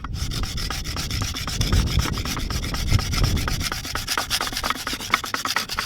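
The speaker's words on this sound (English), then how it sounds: "You scrape the ice." Ice being scraped by hand to make Caribbean sky juice, a steady close gritty rasping stroke repeated in quick rhythm without talk.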